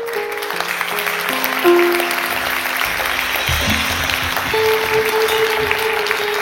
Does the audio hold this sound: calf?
no